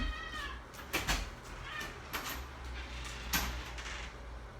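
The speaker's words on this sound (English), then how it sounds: "My cat is being weird." A pet cat meows repeatedly indoors, several distinct drawn-out calls spaced across the moment, fairly close and moderately loud, with no talking.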